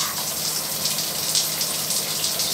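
Coolant streaming steadily from a Tormach SmartCool system on a CNC machine, a continuous close hiss and splash of liquid with no pauses.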